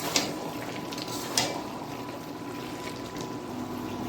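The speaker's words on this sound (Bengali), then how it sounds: "তাই টমেটোগুলো দিয়ে দিলাম।" Tomatoes frying with spiced potatoes in oil in a pan over a low flame, giving a steady close sizzle and crackle throughout, with a couple of brief clicks of stirring near the start.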